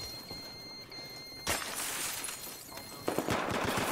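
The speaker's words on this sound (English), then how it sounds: "gunshots. Get down." Gunfire during a military simulation game, a sudden loud burst of rapid shots followed by sustained crackling and a second burst, heard at moderate distance against outdoor background noise.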